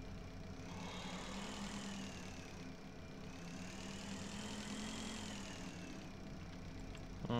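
Spacecraft engine in the game Breathedge running steadily, a continuous low droning hum with slow swells in tone, alone without talk.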